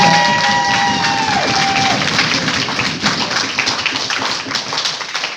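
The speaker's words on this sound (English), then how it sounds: "we must give an even bigger round of applause to the people who have worked incredibly hard in the kitchen" A room full of people at a harvest social evening breaks into loud, sustained applause with scattered cheers, the clapping dense and close throughout, while a brief tone fades out at the start.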